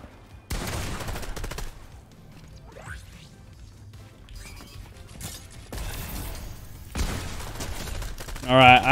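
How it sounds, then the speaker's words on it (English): Burst SMG gunfire in Fortnite, loud and close, with short broadband volleys of rapid shots separated by quieter stretches of in-game sound. "this actual burst SMG is actually kind of sick."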